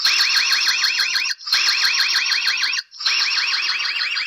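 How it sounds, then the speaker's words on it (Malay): The alarm siren of an EZVIZ H90 dual security camera blares loudly in three long bursts of rapidly warbling tones, separated by brief gaps. "kalau ada pencuri masuk rumah kita, dia punya bunyi alarm seriously memang kuat gila."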